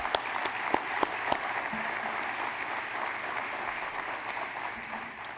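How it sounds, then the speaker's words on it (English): Audience applause at a city State of the City address: steady dense clapping from a crowd in an indoor hall, fairly loud and even, with a few sharper individual claps standing out near the start. "Let's give them one big round of applause."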